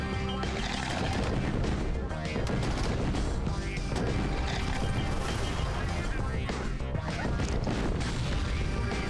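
Dense, continuous gunfire and crashing impacts from units in the real-time strategy game Command & Conquer: Tiberian Sun: Firestorm, loud and sustained throughout under a busy game soundtrack.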